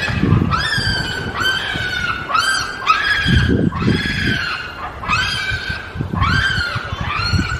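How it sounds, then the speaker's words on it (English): Baboons at Yorkshire Wildlife Park scream in repeated shrill, loud bursts, about eight calls in a steady rhythm over low background rumble and crowd noise. "The screaming's the baboon."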